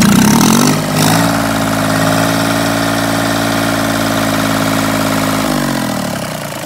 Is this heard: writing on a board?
no